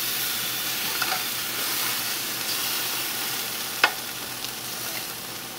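Flank steak sizzles on a grill after being flipped, a steady close hiss with faint crackles and one sharp pop partway through, with no talking.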